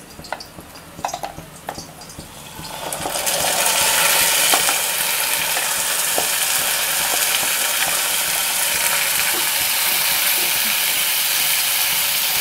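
Ground amla paste sautéing in a hot pan for amla rice, a steady loud sizzle that swells after a few seconds of light clinks and scrapes and then holds evenly to the end.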